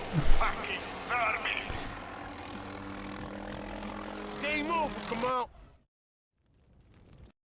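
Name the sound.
helicopter in boss fight, video game 50 Cent: Blood on the Sand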